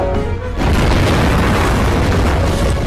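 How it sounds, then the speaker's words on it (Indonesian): A tank blown up in a war film set after Indonesian independence, a loud deep explosion erupting after a brief lull and rumbling on continuously with a dense, sustained roar. "Lalu, ia pun meledakkan tank tersebut."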